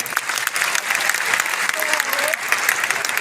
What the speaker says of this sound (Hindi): आप जोरदार तालियों से स्वागत करिए